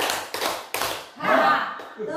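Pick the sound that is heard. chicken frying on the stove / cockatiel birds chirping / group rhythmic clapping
group rhythmic clapping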